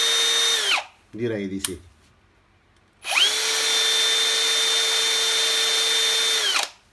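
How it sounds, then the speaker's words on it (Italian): Chuck of a Parkside Performance PABSP 20-Li A1 brushless cordless drill spinning up to a steady high whine, stopping, then a second longer run; a brief voice is heard in the gap between runs. "Vediamo ora il mandrino nella sua rotazione se si comporta bene."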